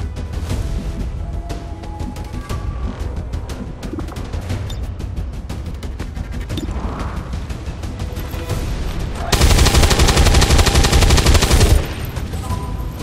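Sustained gunfire in XCOM 2 crackles throughout as dense rapid shots and bursts, swelling into a loud, heavy barrage near the end before easing back; no talking.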